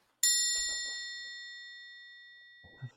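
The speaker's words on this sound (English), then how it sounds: "We're doing a meditation gong." Meditation gong struck once, a bright ringing tone that sounds sharply and then slowly decays over a couple of seconds, with faint voices murmuring underneath.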